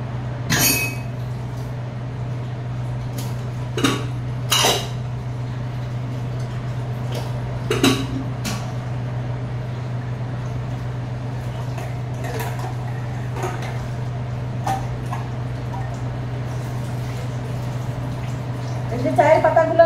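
Tea utensils are washed by hand: scattered clinks and knocks of dishes come at irregular intervals over a steady low hum and faint water, with a voice speaking briefly.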